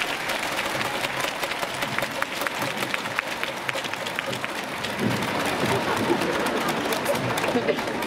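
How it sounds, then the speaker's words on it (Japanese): A large arena crowd at a pre-game ceremony for a Chiba Jets versus Osaka Evessa professional basketball game breaks into dense, sustained applause, a steady roar of many hands that swells slightly toward the end, with faint chatter mixed in. "今一度大きな拍手をお送りください。"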